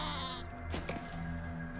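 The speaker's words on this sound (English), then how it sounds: "That goat has the portrait of a sheep, it looks like." A goat in the video game Wasteland 2 lets out a short, wavering bleat over a steady game music and ambience bed, fairly quiet overall.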